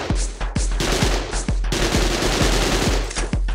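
Rapid bursts of gunfire from a gun in a Minecraft game, loud and close, with sharp repeated shots in quick rhythm filling the whole stretch.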